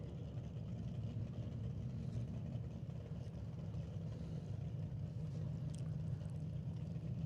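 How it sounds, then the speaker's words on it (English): A drag racing car at an NHRA Northwest National Open Series test-and-tune day rolls around a corner, its engine a low, steady rumble held at an even level, somewhat distant and with no talk over it. "And I do believe that's Chris Demke's car rolling around the corner"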